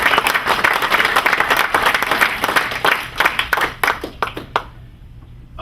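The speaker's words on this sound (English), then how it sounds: "But a big round of applause for those guys." A crowd applauding loudly at a college athletics hall of fame induction, dense clapping that thins to a few scattered claps before fading out.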